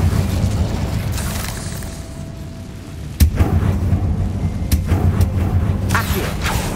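An Incendio fire spell goes off in a Harry Potter video game, a booming burst with a sharp crack over a rumbling low background, followed by smaller snapping impacts and a sustained roar.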